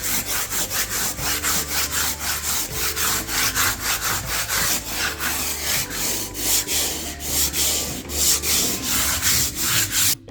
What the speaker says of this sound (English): I'm just going to start sanding this.